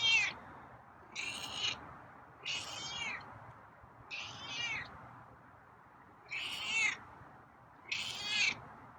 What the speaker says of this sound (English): Yeah, meowy tonight.